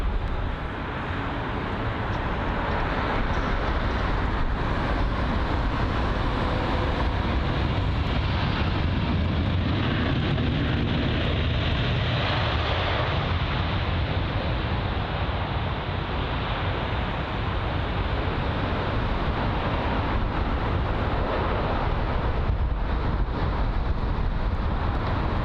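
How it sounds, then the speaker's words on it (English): A China Airlines Airbus A350-900 lands at London Heathrow from Taipei: a continuous broad jet roar heard from a distance, steady and fairly loud for the whole stretch, with wind buffeting the microphone. "It was the China Airlines A350-900 arriving from Taipei"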